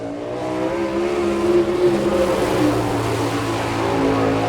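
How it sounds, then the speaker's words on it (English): A sprint car with an Eagle chassis and Kistler racing engine roars around a dirt oval at Chillicothe, Ohio, its steady high-revving engine note holding loud and continuous with shifting harmonic pitch as it laps. "An Eagle chassis and a Kistler racing engine."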